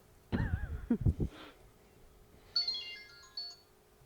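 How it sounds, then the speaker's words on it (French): A telephone rings with a short electronic ringtone melody, heard twice in brief bursts after a few low thumps and knocks, in a quiet room with no talking. "c'est qui ce téléphone qui sonne là?"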